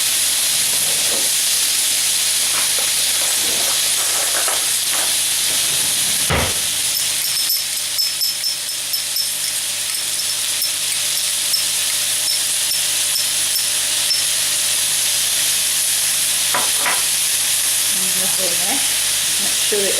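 Spiced pork with honey and tamarind paste is stirred in a pan, a steady close sizzle and hiss running throughout, with a few scraping strokes of the spoon, a sharp knock partway through, and brief clatter near the end.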